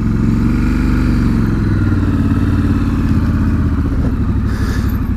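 A 2019 Triumph Scrambler 1200 XE on its standard exhaust pipe pulls away, its twin-cylinder engine giving a loud, steady, throbbing rumble close by, with no talk over it.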